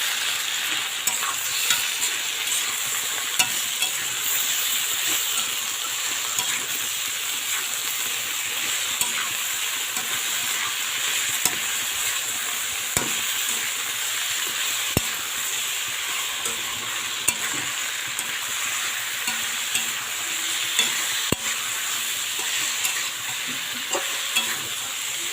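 Spices sizzle loudly and steadily in a pan as chili powder, turmeric, sugar and salt are stir-fried, with occasional spoon clicks and scrapes over a constant hissing fry; nobody speaks.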